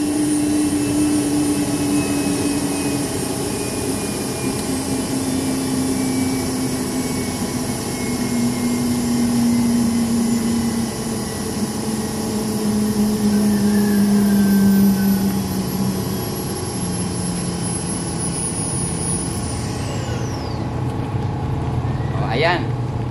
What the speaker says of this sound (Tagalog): So kung naririnig nyo, parang ang jet engine.